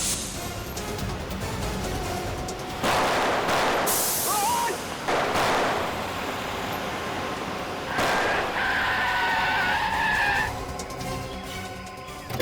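A car sharply skidding as it is driven at two people, with loud tire-squeal bursts and engine roar in a tense crime-drama scene; dramatic music runs underneath throughout.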